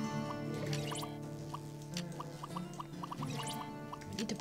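Shield bubbles in the video game Terra Tech pop and drip with a steady run of soft, liquid, bubbling blips over a droning game background.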